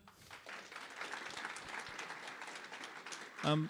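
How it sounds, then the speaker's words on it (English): Audience applause after a talk on LLM security at the DDD Perth developer conference. The clapping is fairly quiet and sounds distant, builds over a few seconds and ends in a brief louder knock or thump. "A huge applause for Hamza."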